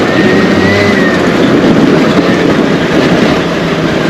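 A 4.7-horsepower 50cc scooter engine races close by in a steady, loud buzzing roar with a faint whining edge, holding unbroken throughout with no voices.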